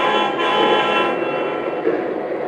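A Lionel model train engine runs on its track with a steady, close-up mechanical rumble and whir. The sound fades slightly partway through.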